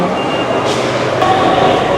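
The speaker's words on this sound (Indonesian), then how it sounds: "Ini dia stasiun MRT." Ambient noise inside a Jakarta MRT subway station at Dukuh Atas, a steady broadband rumble and hiss of the underground concourse with faint background voices throughout.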